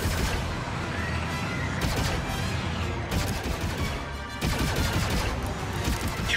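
Rapid turret gunfire in a Star Wars Outlaws space battle, dense sustained bursts of shots with brief gaps between volleys, loud and close throughout.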